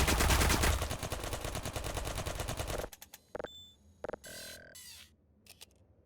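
A ceiling turret in Half-Life 2 fires a fast, loud burst of rapid shots for about three seconds, then falls silent apart from a few short electronic beeps and clicks.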